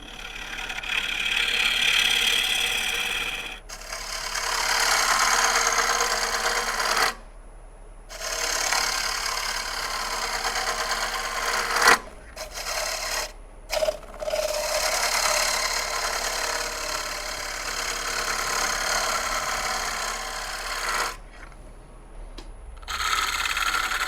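A wood lathe hollows out the center of an American elm bowl, its gouge cutting with a steady rough whirring roar that breaks off into brief silences several times before resuming.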